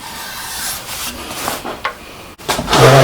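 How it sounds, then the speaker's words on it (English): Close, rough scraping and rubbing of a 120 grit sandpaper board against a wooden bowl in uneven strokes, growing louder toward the end. "What I've got here is a sanding board. This one's set with 120 grit sandpaper."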